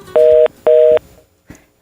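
Telephone line tone after a dropped call during a broadcast phone interview: two loud, steady beeps of equal length separated by a short gap, then a faint click, with no talk.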